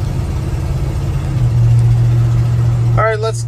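A 1969 Chevrolet C10 long-wheelbase pickup truck engine idles steadily with a deep, even rumble, close and continuous, and a voice speaks briefly near the end.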